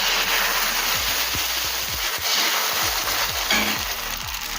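Rice batter sizzles on a hot, oil-brushed nonstick tawa over a low gas flame, a steady dense hiss with small crackles running throughout.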